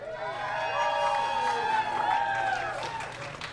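Crowd at a live in-store event at Gelson's market in Century City, a steady wash of many voices, cheering and scattered clapping, loud and continuous throughout.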